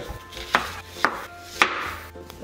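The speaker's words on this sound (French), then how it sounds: "je vais commencer par éplucher et émincer les 3 oignons" Three or four sharp knife strokes slice onions on a board in uneven rhythm, close and fairly quiet, each cut a crisp chop with faint background noise.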